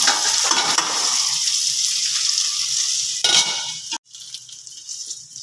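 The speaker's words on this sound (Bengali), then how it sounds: "ঢাকা দিয়েই ভাজছি আমি" Okra sizzles in oil under a lid in a covered pan, a steady loud hiss that suddenly cuts to a quieter frying crackle after about four seconds, with no voices.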